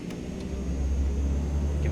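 Super Scooper aircraft engine throttling up for takeoff on a runway in the flight simulator game MSFS 2024, a heavy, steady low rumble and drone that swells slightly and holds loud throughout, with no voices.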